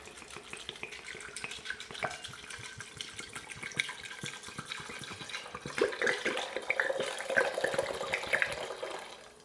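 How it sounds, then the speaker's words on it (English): Alcohol poured from a bottle over lemons for homemade limoncello, a steady splashing liquid pour that grows louder and busier toward the end, with no talking. "So I'm just going to pour this straight into the lemon."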